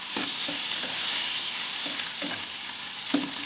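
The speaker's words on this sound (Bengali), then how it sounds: "কলা কেটে ভাজা বসিয়ে দিয়েছি" Sliced bananas frying in a pan on low heat with salt, a steady sizzle with occasional stirring scrapes, close up and without speech.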